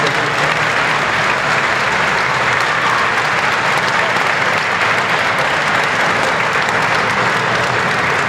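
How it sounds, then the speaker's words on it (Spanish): Loud, sustained applause from a large audience at a political event, dense clapping filling the whole stretch without a break and no voices rising above it. "Pido un fuerte aplauso para Ramoncito Rodríguez"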